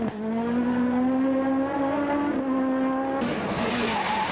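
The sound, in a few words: rally car racing on tarmac stage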